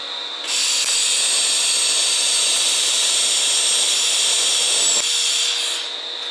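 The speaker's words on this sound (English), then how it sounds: "Make sure you keep your torch on the weld once it finishes, because it's still feeding gas." A MIG welder lays a tack on the steel front guard of a Holden HK HT HG, a loud, steady hissing crackle that holds for about five seconds and then cuts off sharply.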